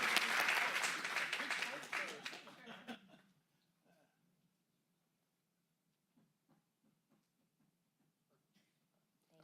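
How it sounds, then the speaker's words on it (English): Audience applause at a county board of supervisors meeting, a loud burst of clapping with some laughter that fades out after about three seconds, leaving a quiet room with faint scattered sounds. "Give a round of applause."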